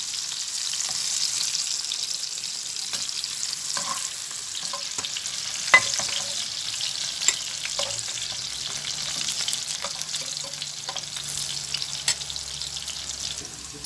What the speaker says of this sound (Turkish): Havuçlarımı da kızarttım arkadaşlar.